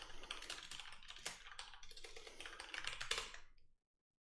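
Close, quiet, rapid clicking of a computer keyboard while a database query is typed, steady irregular keystrokes for about three and a half seconds before stopping, no speech.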